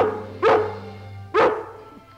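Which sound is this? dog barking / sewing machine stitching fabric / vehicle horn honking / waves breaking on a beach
dog barking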